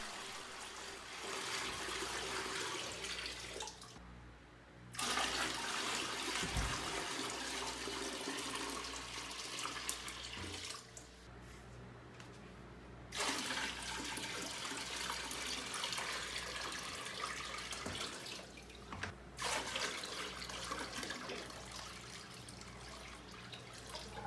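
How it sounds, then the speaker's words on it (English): Plain tap water runs from a hose into a plastic tote for a garden system, a steady rushing flow that breaks off briefly a few times before resuming, with no one talking. "So now we're just gonna fill the tote with 15 gallons of just plain tap water"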